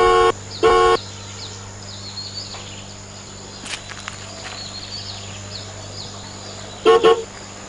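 Car horn toots out in short blasts, one near the start and a double honk near the end, over a steady low hum and faint background noise.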